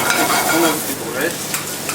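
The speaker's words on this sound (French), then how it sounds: "donc on va poêler les courgettes jaunes" Thin-sliced yellow courgettes sautéing in olive oil in a very hot pan, a loud dense continuous sizzle heard up close with slight stirring movement.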